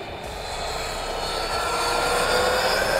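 A Losi LMT King Sling RC mega truck runs at full throttle, giving a steady, loud electric motor whine and drivetrain roar that builds slightly over a few seconds, close to the listener and with no talking.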